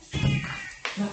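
A cat gives two short meows close by, the first longer and louder, the second brief and rising, with no talk over them.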